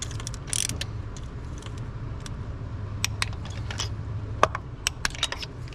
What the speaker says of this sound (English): I'm gonna come back in with my torque wrench here.